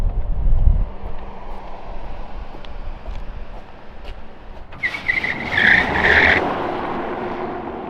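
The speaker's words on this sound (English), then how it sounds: "I think it's time to try this thing on the road, do a little bit of a 0 to 100." A Tesla rated at about 1,020 horsepower accelerates hard from 0 to 100 on the road. A steady roar of wind and road noise grows, and a loud, high whining squeal rises near the end. No one speaks.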